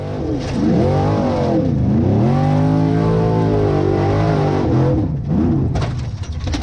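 An off-road race car engine in an Icelandic Formula Offroad event roars loud and close as it climbs a steep final slope, revs rising and dipping in long sweeps before falling away near the end.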